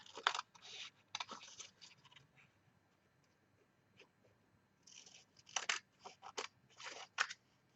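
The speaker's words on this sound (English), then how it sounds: "let's just cut out the back" Scissors snip through paper for a junk journal patchwork project, a few quick cuts in bursts separated by quiet handling, close and soft, with no talk.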